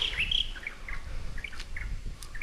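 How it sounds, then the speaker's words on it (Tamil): Birds sing in a morning forest near a tribal hill village in Attappadi, Kerala: bright, thin chirps and short whistled phrases scattered over a soft background hum, with no voices. "பறவைகளுடைய சப்தம் பாருங்கள்,"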